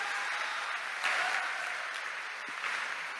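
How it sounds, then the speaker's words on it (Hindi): Audience applause at a live public event in Gorakhpur: a steady, even wash of clapping from a crowd that swells briefly around the middle and holds throughout, with no voices clear above it. "अवनीश जी खातिर को जोरदार ताली"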